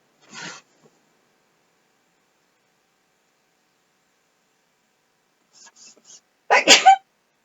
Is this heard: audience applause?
no